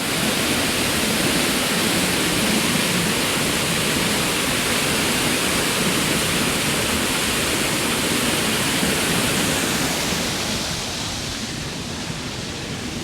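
Water gushing steadily from a leaking farm water line, a dense continuous rushing hiss that stays loud and even, easing slightly near the end, with no voices.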